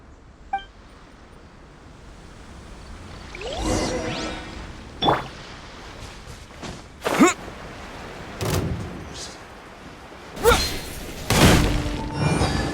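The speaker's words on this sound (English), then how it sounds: "The explosion was roughly the size I expected." In the video game Genshin Impact on Watatsumi Island, explosions burst as several loud crashing, shattering impacts with whooshes, spread unevenly across the stretch over a quiet background.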